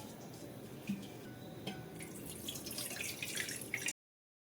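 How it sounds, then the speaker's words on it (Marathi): Broken wheat grains being rinsed in water for wheat kheer, giving soft, steady splashing and trickling with small drips, close up, ending abruptly. "या कण्या धुवून घ्यायच्या"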